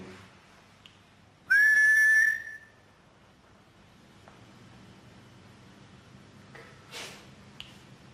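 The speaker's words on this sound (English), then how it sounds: "It's a faint whistle or scream" A single sharp whistle cuts in, bright and steady for about a second, over a quiet low background with a few faint clicks afterward.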